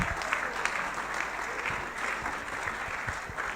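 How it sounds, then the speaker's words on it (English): Audience applause after a poetry reading, steady crowd clapping at moderate level, continuous throughout with no voices. "let's give Della another round of applause."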